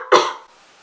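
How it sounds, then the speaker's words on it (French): A single sharp cough bursts out close by, followed by a brief fading tail and quiet. "C'est pas trop le moment de tousser maintenant."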